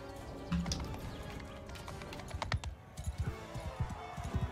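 Hooves of a horse in the medieval battle game Bannerlord, a soft, uneven clatter of quick hoofbeats that grows more rhythmic toward the end, heard over a quiet background of in-game battle noise.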